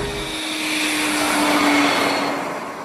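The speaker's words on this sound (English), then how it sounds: "you hear that turbine engine singing along and it feels like you're cruising in a jet" A car powered by a gas turbine engine runs with a loud, continuous jet-like whoosh and a steady high whine, swelling slightly and then easing off.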